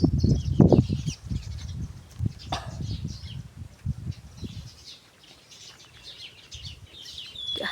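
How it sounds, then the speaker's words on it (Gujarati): Sparrows start up and flutter off from close by, with a quick burst of wing flaps and a few chirps, and the sound thins to faint outdoor ambience. "ચકલા જો આપણે પાસે જઈએ ને તો ઉડી જાય"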